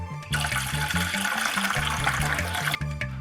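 Water pours steadily into a pot for making tea in a home kitchen, a continuous rushing splash lasting about two and a half seconds, close and fairly loud, over faint background music.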